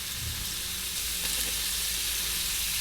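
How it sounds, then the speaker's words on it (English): Minced garlic and finely minced lemongrass frying in hot bamboo chili oil, a loud, even, continuous hiss of sizzling close up, with no talking. "we're going to be adding some minced garlic along with some finely minced"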